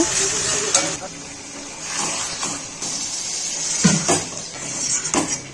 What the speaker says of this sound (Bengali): এবার দই দিয়ে মেখে রাখা চিকেনটা মশলায় দিয়ে দেব